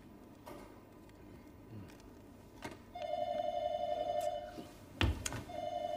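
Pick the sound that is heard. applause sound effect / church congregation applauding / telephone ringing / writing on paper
telephone ringing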